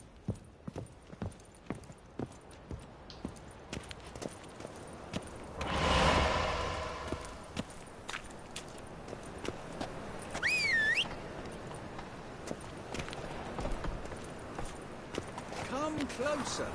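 Roach the horse gallops in a video game, a steady run of hoof clip-clops under a low sweep of wind and a brief whistle, with a fainter whoosh partway through; voices talk briefly nearby.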